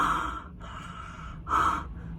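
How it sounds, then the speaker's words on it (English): Ujjayi breathing shown up close, two drawn-out hissing breaths through a constricted throat, the first fading out after half a second and the second swelling louder, with a quieter breath between them. "the other thing is Ujjayi breathing"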